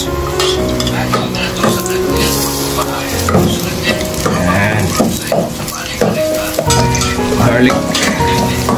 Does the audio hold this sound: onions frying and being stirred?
yes